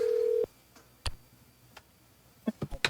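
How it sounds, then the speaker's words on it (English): A phone in a OneShot video game cutscene rings unanswered: a steady tone cuts off, then sparse clicks and ticks sound over a quiet stretch before a cluster of sharper ticks near the end. "go through another phone call cutscene where we're waiting for somebody to pick up the phone who will not pick up the"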